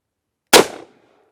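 A single sharp gunshot from a Cimarron Bad Boy .44 Magnum revolver fired across a chronograph at a range, a loud close crack with a short decaying tail and no talk.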